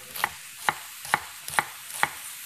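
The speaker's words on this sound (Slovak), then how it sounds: "Takže najskôr si nakrájame cibulu, nemusíme úplne nadrobno" A knife chops through onion on a cutting board in five crisp, evenly spaced strokes, close and clear against a quiet kitchen.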